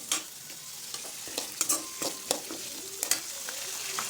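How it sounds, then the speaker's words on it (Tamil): Onions sautéed in oil with mustard seeds and curry leaves for an eggplant kuzhambu, a constant close sizzle broken by sharp, irregular spatula scrapes and taps against the pan. "நல்லா வதக்குங்க."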